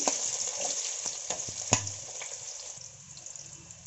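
Sliced onions added to hot oil already holding biryani masala for a mushroom biryani, giving a steady close sizzle and frying hiss with a few soft clinks of a utensil against the pan.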